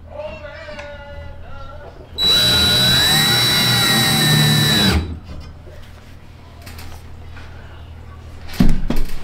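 Power drill driving screws into wood while installing a pass-through door in a box truck, one loud motor burst of about three seconds between quieter stretches, with a cat meowing and a brief clatter late on.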